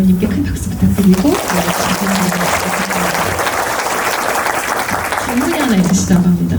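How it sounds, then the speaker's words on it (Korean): Audience applause after a Korean film guest-visit talk with an actress, steady clapping throughout with a speaker's voice audible over the start and end. "오늘 이야기 들려주신 이세영 배우님께 큰 박수 부탁드리고"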